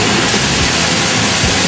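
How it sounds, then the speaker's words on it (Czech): Rushing waterfall at Skradinski buk in Krka National Park, Croatia, a loud, steady broadband roar of falling water, close by and continuous with no voices. "první vodopád."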